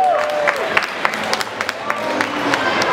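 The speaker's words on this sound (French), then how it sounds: "Je vous demande de les applaudir." An audience applauds stunt performers after a live Batman-themed stunt show, a close burst of crowd clapping with scattered sharp claps and some voices mixed in.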